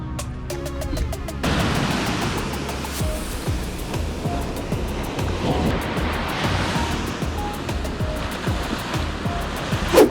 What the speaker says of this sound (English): I can hear the water splashing in the background